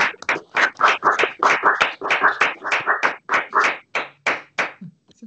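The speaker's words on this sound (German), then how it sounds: "macht alle euer Mikrofon auf, dann können wir einmal einen kleinen Applaus für die alle geben" Online audience clapping over open microphones during a live course session, a steady run of about twenty distinct claps, close and fairly loud, thinning out toward the end with no talk.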